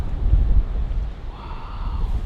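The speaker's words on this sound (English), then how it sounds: "I'm sorry if it's a little bit windy here, but that's just the way it is." Wind buffets the microphone on Gili Trawangan island, giving a low, gusty rumble that swells and fades. A faint, distant engine-like hum joins partway through.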